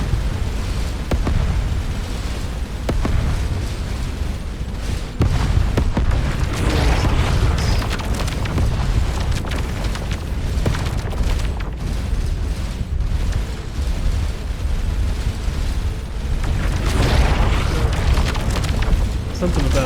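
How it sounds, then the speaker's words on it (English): Explosions and heavy booms from combat in the space game Starcom: Unknown Space keep up a dense, loud rumbling roar, with bursts swelling near the middle and again toward the end. "Something about that explosion hurts."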